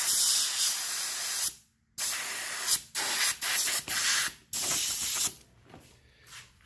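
Compressed air from a compressor blowing dust out of a GPU: loud, close hissing bursts in several short blasts of varying length with brief gaps, fading to softer puffs at the end.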